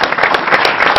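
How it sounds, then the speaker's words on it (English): Audience applause for an organizer at a community candidates' forum for a county council race, steady dense clapping from a crowd filling the whole moment. "so a big round of applause for Toby"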